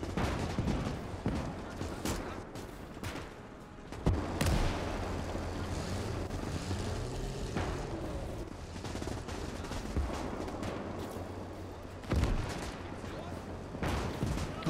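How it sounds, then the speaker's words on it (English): Artillery fire in the World War II game Gates of Hell, with repeated distant booms and crackling gunfire over a constant battlefield rumble, joined by sharper blasts, as voices talk throughout. "Oh, that artillery is legitimately destroying, like, everything."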